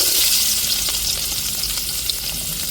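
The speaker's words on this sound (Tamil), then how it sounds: "இப்போ கட் பண்ணி வச்சுருக்கிற வெங்காயத்தை சேர்த்துக்கிறோங்க எண்ணெயை ஊற்றி நல்லா சூடேறிட்டு" Chopped onion hitting hot oil for a pasta dish fills the pan with a steady, loud sizzle and crackle that holds evenly throughout, with faint stirring scrapes underneath and no talking.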